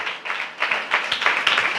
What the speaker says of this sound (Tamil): நான் நல்ல கைத்தட்டி தேவனை மகிமைப்படுத்துங்க